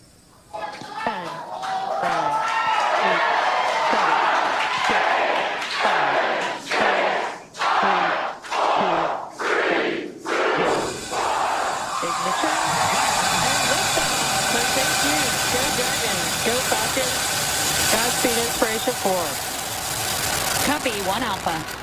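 The rocket carrying the Inspiration4 crew lifts off with a deep, continuous rumbling roar. Voices talk in bursts over the rising noise at first, then the roar becomes a sustained, dense wall of sound that swells and rolls steadily.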